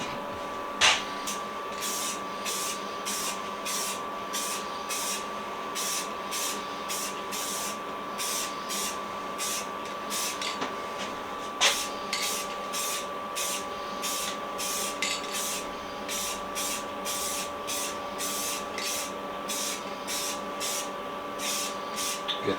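Blue spray paint hisses from a can in short, evenly spaced bursts, close and steady, with a faint tonal hum running underneath.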